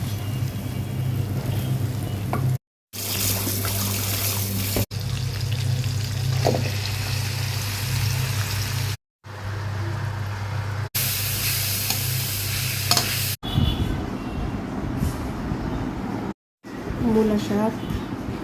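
Shrimp vegetable curry reheated with fresh spices in a pan, a soft steady sizzle with scraping stir strokes, broken by several short cuts of silence; a voice speaks briefly near the end.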